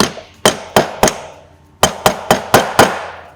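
A mallet taps a bearing socket into a motorcycle wheel during a bearing and seal change, giving nine sharp, ringing metallic strikes in two quick bursts, each loud and close with a short decay.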